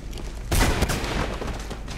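Gunfire in the Mirror's Edge video game: a sudden, loud burst of rapid shots erupts about halfway through and then trails off into a rattling fusillade that tapers into a lower, continuous din.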